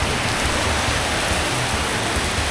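Heavy rain pours steadily during a motorbike stop outside a Tesco near a petrol station, a dense continuous hiss close by with no voices.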